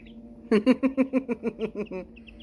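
Heritage turkey poults and week-old chicks chirp in a quick run of about ten clear, evenly spaced peeping calls, loud and close, with fainter high chirps trailing off afterward.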